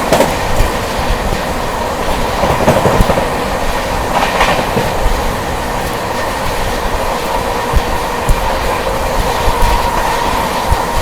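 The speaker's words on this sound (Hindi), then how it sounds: "अब अपनी मुलाकात होने जा रही है 20433 सिवतारगंज श्री माता वैष्णो देवी कटरा जम्बू मेल।" The 20433 Shri Mata Vaishno Devi Katra Jammu Mail express train passes close by at Shikohabad Junction railway station, a loud, continuous rumble with rhythmic clickety-clack of wheels over rail joints throughout.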